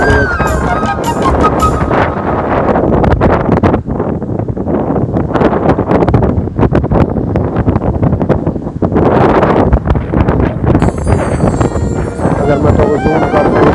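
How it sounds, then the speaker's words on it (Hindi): Strong, gusty wind batters the microphone continuously in loud, roaring buffets, with a voice talking faintly at times beneath the rumble. "बहुत तेज हवा है, बहुत शदीद तरीन हवा है चलती है।"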